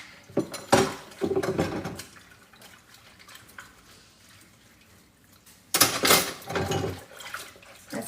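Dishes washed by hand in a kitchen sink: bursts of running water and clinking plates and cutlery come in two busy spells, with quieter dripping and handling between them.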